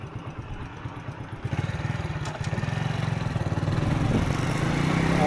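A motorbike engine runs steadily after starting, setting off on a road toward Ahmadal Sharif; a rhythmic mid-pitched putter that grows gradually louder and more insistent over several seconds, with no voices.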